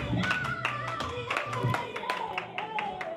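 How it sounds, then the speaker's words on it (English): Clapping from a small open-mic comedy crowd in Springfield, Missouri for a comedian, scattered claps with voices and chatter mixed in throughout. "You did a fantastic job of clapping for someone you never heard of."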